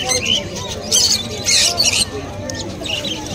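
Lutino parrots squawk amid a busy pet bird market, harsh bursts rising over a dense chatter of other birds, with people talking nearby.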